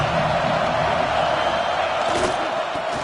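A stadium crowd in an NCAA college football video game roars in a dense, continuous wall of cheering and shouting that holds steady and loud throughout.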